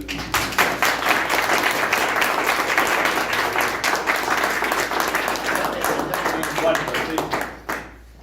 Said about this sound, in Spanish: Pero merece un aplauso